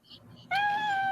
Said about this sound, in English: the cat has apparently decided he wants to